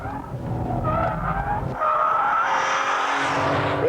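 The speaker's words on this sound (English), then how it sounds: "So turning in now, lifting off, get the back of the car sliding." A car's rear slides as the driver lifts off the power into a bend, tyres squealing and skidding loudly over the engine note, the squeal sharpening toward the end.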